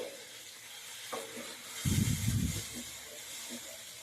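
Turmeric being stirred into a cooking mixture for pulihora in a pan, a brief burst of close scraping and sizzling about halfway through, over a steady faint background hiss.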